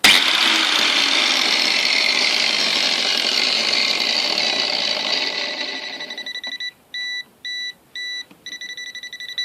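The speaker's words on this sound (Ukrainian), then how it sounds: "Вмикає болгарку." An angle grinder whines loudly for several seconds, then spins down and stops; a series of short electronic beeps follows in the quiet.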